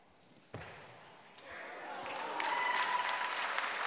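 A crowd at a women's 63 kg weightlifting competition breaks into applause after a sharp bang from the platform, with the clapping and cheering swelling steadily louder over the hall's ambience.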